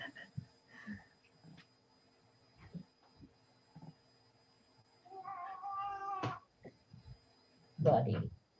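A pet cat moans in a drawn-out, wavering cry close to the microphone, then gives a shorter grumble, amid quiet room noise and light speech.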